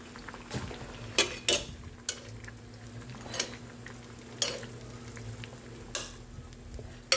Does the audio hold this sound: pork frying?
yes